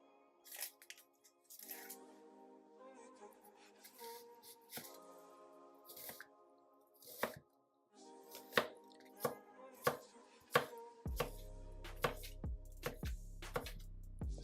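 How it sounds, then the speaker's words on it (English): A knife dices half an onion on a cutting board in a run of quick, close, sharp chops that grow faster and denser toward the end, with no talking. "we're going to start out by dicing a half of an onion"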